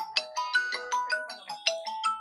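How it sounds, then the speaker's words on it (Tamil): A mobile phone rings with an incoming call, its melodic electronic tone repeating in quick, bright pulses close to the microphone, with no voices. "ஆக்சுவலா எனக்கு இந்த டைம்ல ஃபோன் வந்தது."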